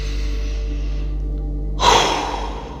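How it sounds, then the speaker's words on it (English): A deep clearing breath blown out once, a loud breathy rush lasting about a second after a quiet stretch, fading off at the end. "Take a moment now just to do a couple of deep clearing breaths all the way in."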